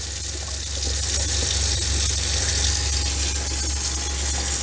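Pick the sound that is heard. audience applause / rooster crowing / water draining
water draining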